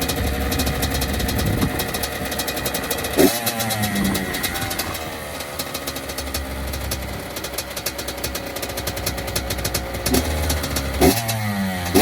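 A 2006 Honda CR85 dirt bike engine runs cold on choke, a loud, close two-stroke buzz that keeps rising and falling in revs, with a couple of sharp blips along the way.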